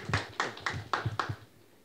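Hand claps after a research results briefing, five evenly spaced, distinct claps close by, with no talking over them.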